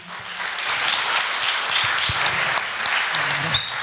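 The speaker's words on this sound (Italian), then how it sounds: "mitico applauso per Fulvio Grimaldi." An indoor audience at a political talk bursts into sustained applause, a dense, even wash of many hands clapping for a few seconds with no voices over it.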